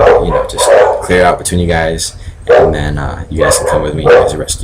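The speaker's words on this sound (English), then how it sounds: "Sorry about my dogs" Dogs bark repeatedly and loudly nearby in short bursts, mixed with yips, while a person talks over them.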